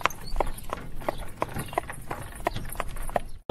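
Horses and mules walk the Kedarnath trek path near Gaurikund in light rain, their hooves sounding a steady, close clip-clop on the hard track, with faint voices in the background.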